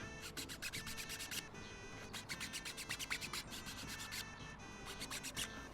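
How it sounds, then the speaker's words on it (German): A round file rasps a notch into the back end of an arrow in quick, rhythmic strokes, each a short scraping burst, close and quiet with no talk. "mit so einer Rundpfeile mache ich jetzt hinten ein schönes rundes Loch rein"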